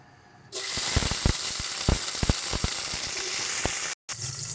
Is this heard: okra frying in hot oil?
yes